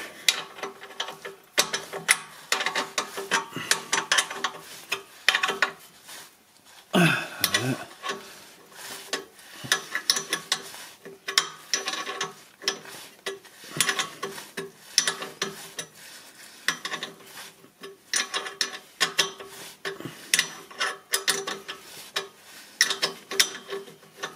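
Wrench ratcheting in repeated quick bursts of clicks while a starter motor is removed from a Mercedes that no longer starts, working in a cramped, hard-to-reach spot under the car, close and fairly loud with no talking.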